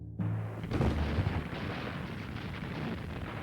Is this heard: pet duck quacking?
no